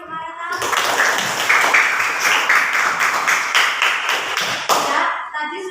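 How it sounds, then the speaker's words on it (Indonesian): Children clap for a classmate named Marita in a classroom, with close, loud, rapid hand claps running for about five seconds before stopping abruptly. "Cepatlah tepuk tangannya untuk Marita."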